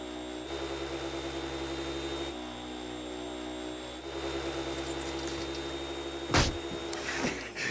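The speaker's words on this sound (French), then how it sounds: "Passez l'aspirateur dans la cour." Cartoon vacuum cleaner running in a courtyard, a steady mechanical hum that shifts pitch a few times, with a brief sharp clatter near the end.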